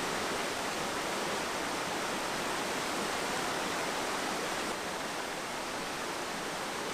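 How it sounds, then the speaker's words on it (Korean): A large waterfall roars in a Pyeongchang limestone area, where it normally vanishes; a steady, dense rush of falling water fills the scene continuously, with no voices. "이 거대한 폭포가 평소에는 사라진다는 사실이 좀처럼 믿기지 않습니다."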